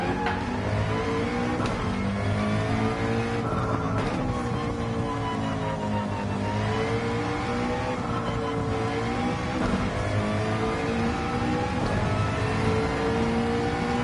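McLaren race car engine in Gran Turismo 7, a loud sustained whine with rising and falling pitch as it revs through gears, continuous and close with no voices.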